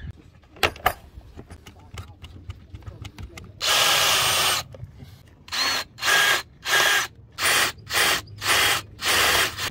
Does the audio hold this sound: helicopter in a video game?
no